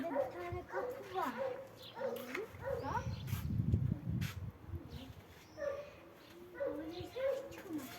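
A dog yips and whimpers intermittently among people talking nearby, with short, high barks scattered through the scene.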